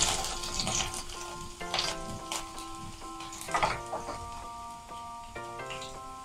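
Five or six garlic cloves frying in oil for an instant jujube (ber) pickle, a quiet, steady sizzle with soft crackles and bubbling, playing under gentle background music.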